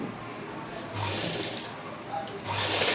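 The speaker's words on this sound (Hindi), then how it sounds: "यहाँ पे हमने इसको सिलाई लगानी है।" Sewing machine stitching a straight pant seam, two short bursts of rapid mechanical whirring separated by a pause, near and clear, no talk.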